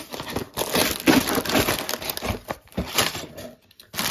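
Tape pulled off and cardboard crinkling as a LEGO Brickheadz set box is opened, close-up tearing and rustling in uneven bursts, with no talk.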